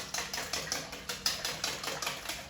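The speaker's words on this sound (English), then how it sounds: "So you will need to whisk about 5 minutes until everything has been well incorporated" Almond cake batter is whisked briskly in a bowl, a fast, even rhythm of light tapping strokes repeating several times a second, close and steady.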